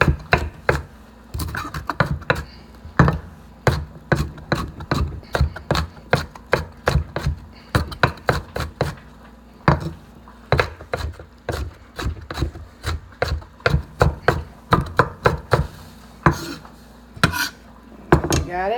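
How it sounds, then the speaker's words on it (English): A knife chops green pepper in steady, rapid strokes, each a crisp, close knock, continuing rhythmically with only short breaks throughout. "Cut our green pepper."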